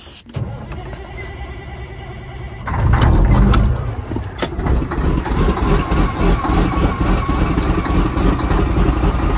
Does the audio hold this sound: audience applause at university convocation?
no